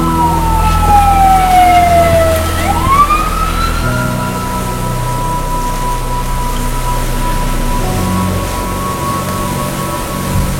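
Emergency sirens wail through a stormy night in Tornado Alley, one tone sweeping upward and then holding a long steady pitch, with a low rumble beneath and faint rain-like hiss throughout.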